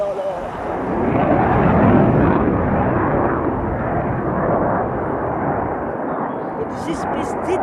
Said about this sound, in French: Ah voilà, un avion.